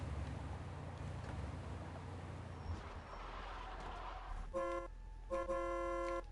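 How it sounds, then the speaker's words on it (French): An old-fashioned car horn in the video game Mafia 2 honks twice, each a short brassy toot, over low engine and ambient game noise. "Le vieux klaxon."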